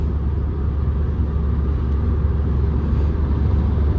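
Steady low engine rumble inside a Renault Kangoo coasting in sixth gear with the engine running, an even, continuous drone with road noise and no talking.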